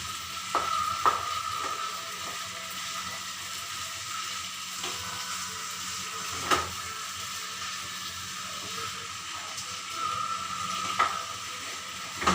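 Pongal or vegetable curry sizzles softly in a pan as it is stirred, with a steady frying hiss broken by occasional spoon scrapes and clinks against the pan, without talk.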